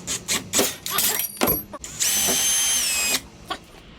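A power drill enlarges a hole in an epoxied plastic sleeve on a motorized Eastwood 8-inch bead roller. Short bursts whir at close range, then a sustained high-pitched grinding squeal, with brief breaks between runs.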